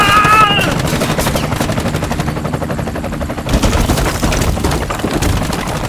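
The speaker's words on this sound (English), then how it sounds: "Do you read me? I'm under heavy fire." Sustained heavy automatic gunfire in the action video game Bright Memory Infinite, dense and continuous rapid bursts with booming impacts, loud and close throughout.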